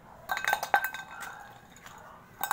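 A tin can is handled and knocked against other items, giving a few light metallic clinks and taps close by, with quiet pauses between them.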